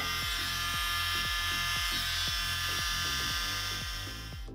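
A small handheld mini blower fitted with a nozzle attachment blows steadily and close by, a loud continuous motor whine with airy rush that holds evenly and eases slightly at the end, no voices.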